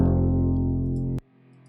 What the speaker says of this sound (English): Just a DI of me hitting the chord.